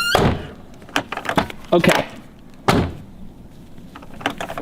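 A Lamborghini Murcielago door gives several sharp thunks and clunks at close range, spaced unevenly, with a person speaking in between.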